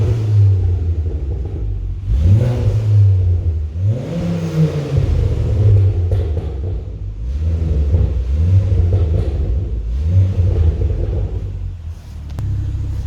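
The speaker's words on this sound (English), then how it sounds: "let's get a listen to this exhaust, because I'm in love" A Ford Focus ST with a newly fitted exhaust revs repeatedly, each blip rising and falling in a deep throaty rumble, close and loud with no talking.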